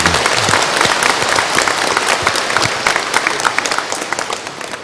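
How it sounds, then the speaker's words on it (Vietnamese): Congregation clapping inside a cathedral during a Chrism Mass, dense sustained applause that is loud at first and gradually thins out toward the end. "Một tràng pháo tay cảm ơn tất cả mọi người."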